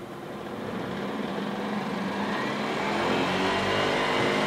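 An electric Farmall Cub tractor motor engages with a steady whirring hum that slowly grows louder, heard alone without talk.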